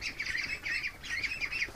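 Ducks kept in a pen near a gate give repeated nasal quacks in a steady rhythm, fairly faint and a little distant, with no voices over them.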